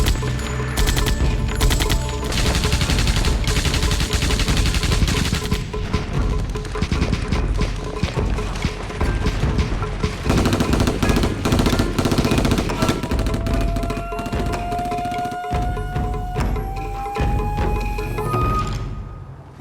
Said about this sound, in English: as they near the top, they come under heavy machine gun fire from well-entrenched Chinese positions